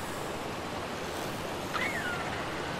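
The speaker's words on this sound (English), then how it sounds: "the sound of the water as we approach the delicate foliage" Steady wash of water and surf-like ambience in the video game ARK Survival Ascended, continuous and fairly loud, with a brief high whistling tone partway through.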